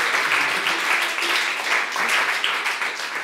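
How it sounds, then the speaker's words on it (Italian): Applause from a small studio audience, a steady dense patter of clapping holding for a few seconds at moderate level with no talk over it. "È un applauso."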